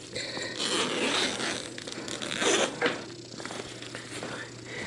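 A zipper on the front pocket of a camera bag is pulled open in several scratchy rasping strokes, close and fairly loud, with faint rustling around it.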